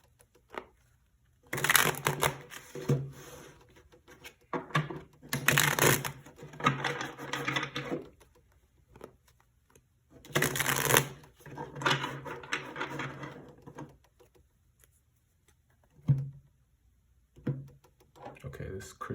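Cards are shuffled close-up in repeated bursts of riffling and rustling, with pauses between, and a voice speaks between shuffles.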